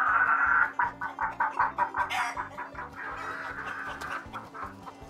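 Chicken clucking close by in a rapid, choppy series of calls, with a steady low mechanical hum running underneath throughout.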